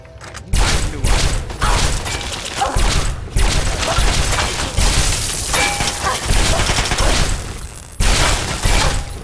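Mark 7 turrets in Fallout 3 fire continuously in heavy, crashing bursts, a dense barrage of loud blasts with repeated sharp onsets over about nine seconds.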